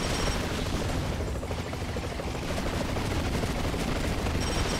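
Missiles explode nonstop in the Double Dragon Neon video game, a dense, loud, unbroken wall of booming blasts with no clear gaps between hits.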